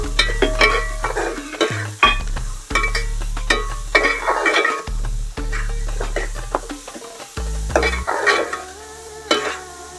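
Sliced onions with turmeric and salt sizzle in a pan for Cherthala-style chicken perattu, stirred with a spoon that scrapes and clinks against the metal in uneven strokes, close and loud.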